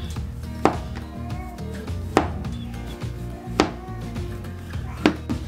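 A knife slices through a block of tempeh on a cutting board by hand, landing as sharp, evenly spaced thuds roughly every second and a half over a low background hum.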